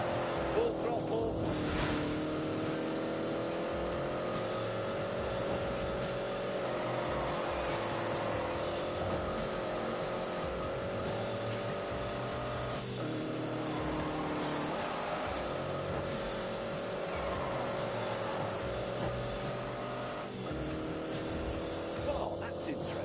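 A car engine held at full throttle, a loud, sustained droning roar that climbs and dips slightly over the whole stretch, with voices over it.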